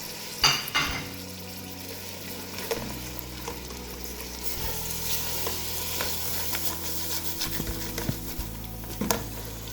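Onions and tomatoes frying in a pan while being stirred, a steady soft sizzle with scraping spoon strokes and occasional utensil clinks against the pan, close by and without talk.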